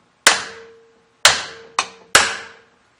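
Hammer striking a metal punch to start a divot in metal, four sharp ringing taps with short decaying tails, spaced unevenly over a few seconds, close and clear in quiet surroundings.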